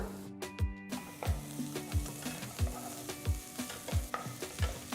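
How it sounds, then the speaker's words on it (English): Onions being sautéed to golden brown in a pan, with a constant sizzle beneath rhythmic stirring scrapes that repeat about every half second, close and steady, no talking. "Saute the onions till they are a nice golden brown color."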